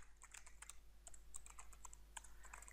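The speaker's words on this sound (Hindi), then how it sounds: "यहाँ पे हम कुछ भी टाइप कर सकते हैं, लाइक एंटर एंटर।" Keys clacking on a computer keyboard in quick irregular bursts of taps, close and fairly quiet, with no speech.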